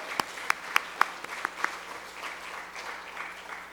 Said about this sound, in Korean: 우리 다시 한번 박수로 축복합니다.